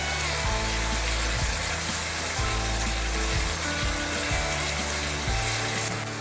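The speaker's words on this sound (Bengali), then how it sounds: "একটু নাড়িয়ে নিচ্ছি।" Chili and turmeric powder being stirred in a hot pan for a vegetarian paneer curry, giving a steady loud sizzle with a low rhythmic scraping or rumble underneath throughout.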